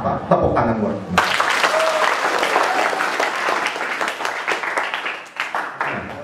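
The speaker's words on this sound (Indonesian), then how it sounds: "Tepuk tangan buat kita." Applause from a school audience at SMKN 6 Tangerang bursts in suddenly after a brief moment and continues steadily, with voices mixed into the clapping crowd.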